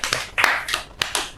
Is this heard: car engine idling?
no